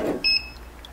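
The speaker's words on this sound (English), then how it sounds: "I heard a beep. Did you hear a beep?" An electronic beep sounds during work on a garden tiller: a single steady two-tone beep lasting about a third of a second, clear and fairly close, with a faint second chirp after it.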